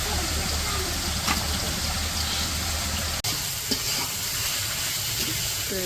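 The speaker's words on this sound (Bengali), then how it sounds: "তারপরে শাপলা দিয়ে এখন ভাজতেছে" Shapla water lily stems fry in a pan on a village cookstove, giving a steady sizzle with occasional stirring scrapes and a sharp click, as voices talk faintly in the background.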